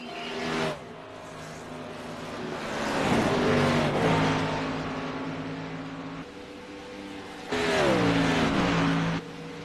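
Race cars roar past on an oval track at night, engines swelling as they approach and dropping in pitch as they pass, in several loud waves over a constant crowd-like background rumble.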